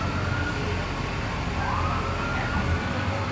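A district ambulance passes in a Fourth of July parade in Trinidad, Colorado, its siren wailing in rising and falling sweeps over steady street noise, fairly close and continuous throughout.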